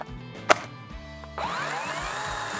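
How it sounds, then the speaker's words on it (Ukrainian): A Procraft PKA42Li cordless chainsaw cuts lengthwise along the grain of an oak log. A sharp knock comes first, then the motor whines up into a steady, close cutting buzz. "Пиляємо ми повздовж волокон"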